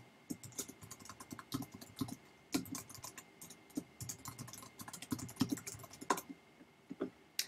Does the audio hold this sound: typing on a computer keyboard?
yes